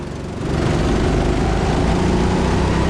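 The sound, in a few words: go-kart engines racing at TeamSport Sheffield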